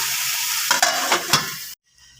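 Vegetables with spices sizzle and are stirred in a pan, a loud frying hiss with several scraping strokes, then a lid goes on and the sound drops to near silence.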